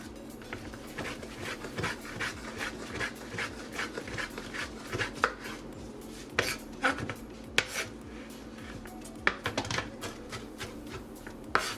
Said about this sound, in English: Go ahead and chop your mushrooms.